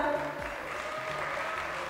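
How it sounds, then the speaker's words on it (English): An audience at a national quiz final claps together in a steady patter of applause, moderately loud, with a low hum underneath. "A big round of applause"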